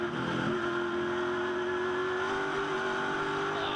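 A Ford Mustang touring car at an Australian Touring Car Masters race in Adelaide, its engine wound up loud and close in a sustained high rev, with pitch holding and rising slightly.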